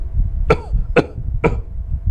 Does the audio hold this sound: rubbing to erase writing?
no